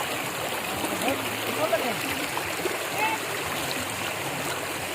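Cold water in a stream at a picnic spot rushes and splashes in a steady, close wash of flowing sound, with faint voices now and then.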